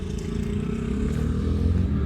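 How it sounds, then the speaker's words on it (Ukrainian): Shifeng SF 354 minitractor engine running as the tractor drives out, a steady, loud, low diesel rumble that holds even throughout with no talking. "Тракторець перевірений, їде наружен."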